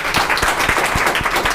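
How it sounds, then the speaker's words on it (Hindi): An audience at a coaching class gathering applauds to welcome a student, steady close clapping with distinct individual claps standing out in a regular rhythm. "चलिए हम लोग अब प्रेम को फिर से एक बार तालियों के साथ स्वागत करते हैं"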